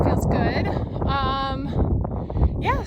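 Wind gusting across the microphone on a sunny hike in Canyonlands, a steady low rumble and buffeting beneath continuous talking.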